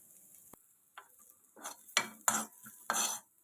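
Grated radish being roasted dry in a pan for chutney: a few short, sharp scrapes and clinks of a spatula against the pan, separated by quiet gaps, close by, with no talking.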